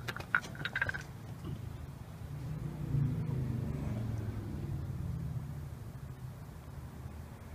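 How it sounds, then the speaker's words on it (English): A car engine barely idles, rumbling low and unsteady for several seconds after a few brief knocks at the start. "we can barely idle the engine, but we're moving"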